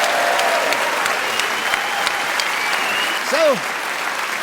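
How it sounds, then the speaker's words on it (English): Studio audience applause at the close of a panel game, steady and dense throughout, with a host speaking over it as it continues. "A extra round of applause for them."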